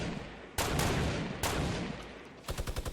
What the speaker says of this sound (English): They're shooting at me heavy.